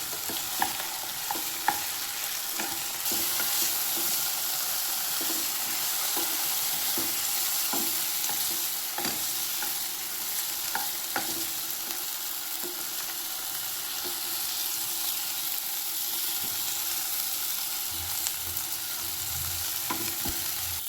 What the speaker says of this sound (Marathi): आपल्याला तेलावर टमाटर परतून घ्यायचे आहे।